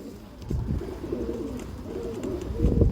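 Racing pigeons, a top-quality pair from Kakinada in Andhra Pradesh, coo in low, throaty rolling phrases close at hand, several birds overlapping with soft rustles and a few thumps.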